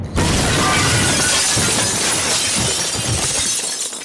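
Glass shatters loudly and close, a sustained crashing burst of breaking shards that fills the clip for about four seconds before trailing off, with no talk over it.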